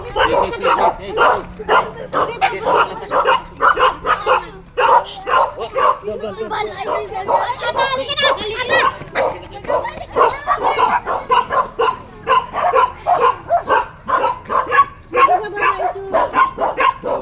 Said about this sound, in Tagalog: Naku, ang daming aso.